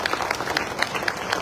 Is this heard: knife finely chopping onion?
no